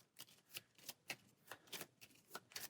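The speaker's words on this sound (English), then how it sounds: "Time to shuffle for another round." A deck of cards for the Aeon's End card game riffled and shuffled in quick repeated bursts, crisp close-up flutters with short gaps between them.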